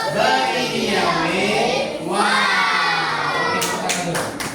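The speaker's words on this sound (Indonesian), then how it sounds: "Oke, tepuk tangan dulu. Tepuk tangan untuk kelompok 1." Classroom of children applauding a student group during a coding and computational thinking lesson, sustained clapping mixed with excited kid voices and crowd noise throughout.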